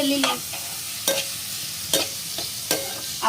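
Chopped tomatoes fry in a pan for a brinjal and egg curry, with a soft continuous sizzle broken by several sharp, evenly spaced scrapes and taps of a spoon stirring close by.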